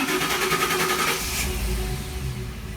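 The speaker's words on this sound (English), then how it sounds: "Remote whistles, engine cranks." A 2012 Ford Expedition's engine cranks via remote start, a rapid rhythmic whirring chatter of the starter that fades into a low steady idle rumble, close by.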